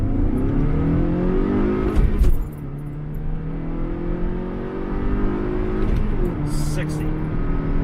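A 2011 Scion tC with traction control on accelerates hard from about 5 mph toward 60, its engine droning loud and close as the pitch climbs, drops at a gear change, then climbs again.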